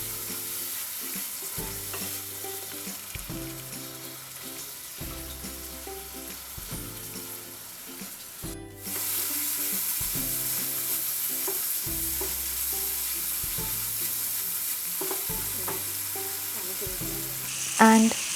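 Crab curry stirred in a pan, sizzling steadily with repeated scraping strokes of a spoon at a regular rhythm, close and fairly loud, the sizzle rising louder midway when the lid comes off.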